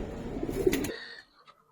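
Young Giribaz pigeons giving a short, close coo, a soft low throaty burst that fades quickly into near silence.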